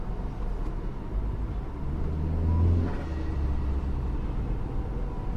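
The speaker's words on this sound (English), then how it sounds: "Some rumbling from the exhausts" A tuned Saab 9-5 sedan gives off a low, steady exhaust rumble heard from inside or near the car, swelling slightly in the middle of the stretch before settling back, with no talking.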